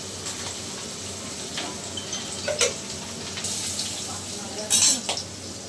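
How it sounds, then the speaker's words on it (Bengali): Fish frying in oil in a pan gives a steady, soft sizzle, with occasional metallic clinks and scrapes from utensils and a couple of sharper bursts of spitting oil. "মাছটা ছেড়ে দিয়েছি, এবার মাছটা একটু ভাজা হোক।"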